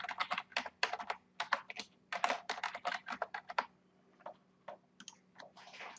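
Bursts of quick clicking keystrokes on a computer keyboard as a password is entered, close and fairly quiet, with short pauses between runs of typing.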